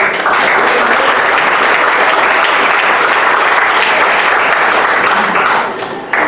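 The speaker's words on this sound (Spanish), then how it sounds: "Dele palmas al Señor." A church congregation claps loudly and steadily during a Spanish-language sermon, a dense sustained applause that fades slightly at the very end.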